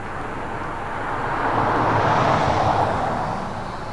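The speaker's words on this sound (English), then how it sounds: "777 200 ER coming up from London Heathrow in the One World livery, flight 283" A Boeing 777-200ER airliner in oneworld livery, arriving from London Heathrow, flying near LAX; a steady broad jet roar in the distance that swells gently and then eases, with no talk.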